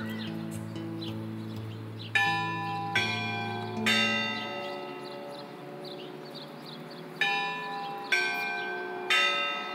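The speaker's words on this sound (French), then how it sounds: "Le plus impressionnant, c'est cette symphonie de cloches qui a lieu tous les dimanches" Sunday church bells peal at the Church of the Saviour in Irkutsk, several loud strikes ringing out and decaying into a sustained shimmering tone, with faint birdsong in the background and no voices.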